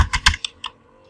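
Quick typing on a computer keyboard, with a short burst of four or five crisp, close keystrokes that fade into lighter, fainter taps.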